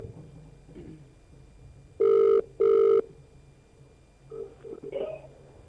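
A telephone rings twice in quick succession, loud and clear, followed by faint background shuffling.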